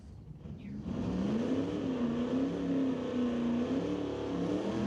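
Drag race car launching down an eighth-mile strip in test-and-tune runs, its engine rising from a muffled rumble into a loud sustained roar with a climbing, wavering pitch, close and unbroken.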